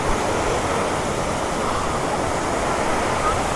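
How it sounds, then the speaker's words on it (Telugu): Rushing water from a waterfall makes a steady, unbroken roar of loud broadband noise throughout. "ఇట్ ఈస్ వాటర్ ఫాల్స్ అంట"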